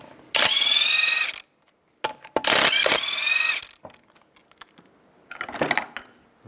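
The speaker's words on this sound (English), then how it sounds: "Use a 19mm socket," Rapid mechanical ratcheting from a 19mm socket spinning lug nuts off the front wheel of a 2002-2005 Chevrolet Trailblazer, in two loud close bursts separated by short pauses and followed by a fainter third burst.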